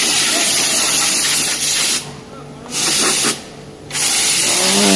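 Compressed air blasts in loud, steady hissing jets while a refrigeration unit is serviced, cutting off twice for brief gaps before resuming, close and harsh, with no voices.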